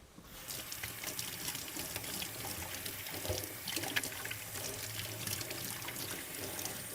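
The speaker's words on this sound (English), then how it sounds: "I just want to wash my hands really quick" Water from a kitchen tap runs steadily into a sink during handwashing, a continuous splashing hiss with small shifts as hands move under the stream, close and moderately faint.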